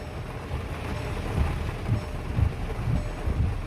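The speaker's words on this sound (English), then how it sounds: "It is raining so hard." Heavy rain drumming on a car while driving, a steady dense wash of rain and road noise with low thumps from the wipers or the road, constant and fairly loud inside the cabin, no talking.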